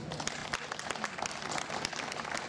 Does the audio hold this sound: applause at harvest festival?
yes